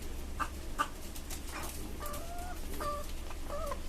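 Several caged hens cluck in short, scattered calls against a steady low hum, fairly close and without any talking.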